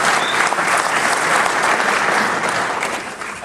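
A round of applause for Mr. Hill from the audience at the White House Tribal Nations Conference, dense and loud sustained clapping from a large crowd that holds steady, then eases slightly at the end.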